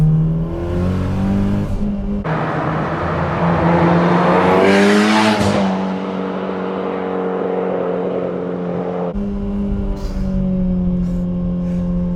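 A Mitsubishi Lancer Evolution IX, all-wheel drive with around 400 wheel horsepower, is driven hard on a wet road, its engine loud and close as it revs up and down through gears with tire hiss and a shift-like break near the end.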